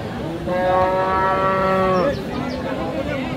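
A cow or young bull at a busy rural cattle market gives one long, loud, close moo lasting over a second, set against a constant murmur of the crowded market.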